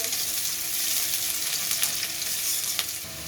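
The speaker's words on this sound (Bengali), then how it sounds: "পেঁয়াজ কুচি আর কাঁচা লঙ্কা কুচি দিয়ে কিছুক্ষণ নাড়িয়ে নেব" Chopped onion and green chili fry in a pan for an okra and egg dish, a close, steady crackling sizzle with a few sharper spits and stirring scrapes, no talk over it.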